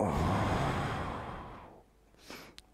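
One long, audible exhale of a deep breath dominates, fading away before a soft, brief sniff or gasp at the end, close and quiet with no talk.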